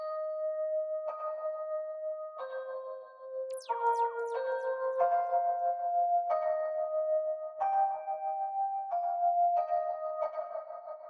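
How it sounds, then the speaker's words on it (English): Soft electric piano notes from Keyscape play a slow, gentle melody with ringing tones and a brief swirling flourish midway, alone without any voices. "I added a little bit of electric piano that I used from Keyscape"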